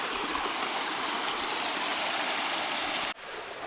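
A creek flows along a hiking trail in Shenandoah National Park, a steady broadband rush of running water that holds even and fairly close, then drops abruptly to a quieter wash near the end.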